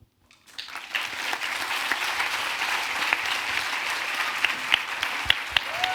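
An audience applauds the performers of a French talk on friendship, the clapping swelling quickly and then holding as a broad, steady ovation with a few sharp claps standing out.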